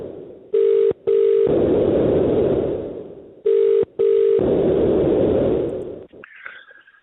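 A telephone rings in two double bursts of a steady electronic tone over a constant line hiss, the start of a recorded cold call, loud and close, before the line falls quiet.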